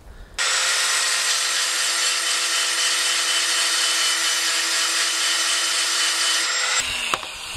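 Power tool grinding notches into a carved ram's-horn piece, a loud, steady high whine that starts abruptly and holds unbroken for about six seconds before cutting off, close and alone.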